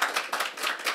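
A crowd claps steadily in dense, overlapping applause, fairly close, with no voices.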